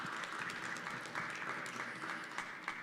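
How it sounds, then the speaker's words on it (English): A crowd at an Air and Space Day event claps for a lieutenant colonel after a talk, a fairly quiet, steady patter of many hands with a few sharper individual claps. "A round of applause for Lieutenant Colonel Abel,"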